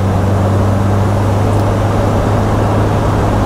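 A car accelerates hard along a road, its engine a loud, steady low drone that stays constant and dominates the sound with a rushing wash of road noise on top.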